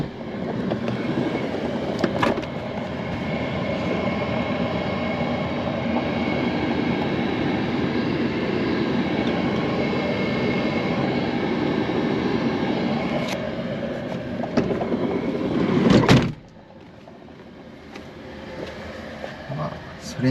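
Diesel-style fuel heater running inside a Toyota TownAce camper van, a steady broadband whir and rumble filling the space for about sixteen seconds before dropping away to a quieter hum, with a few soft clicks.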